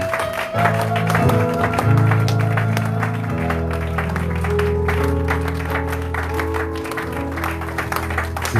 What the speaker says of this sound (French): Est-ce que tu peux l'acclamer?